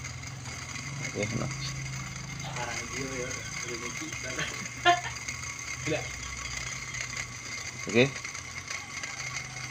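A rough, droning indoor air conditioner fan motor hums steadily with rattling mechanical noise, while a person speaks briefly nearby.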